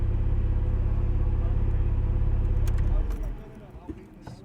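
A 2006 Porsche Cayman S with a six-speed manual, held in first gear, gives a loud, steady low engine drone for about three seconds. It then drops away to a quieter cabin hum with a few faint knocks.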